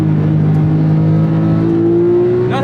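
Porsche 997.2 911 GT3 RS flat-six engine revving hard while driving, a loud continuous near tone whose pitch climbs steadily under load, with no talk.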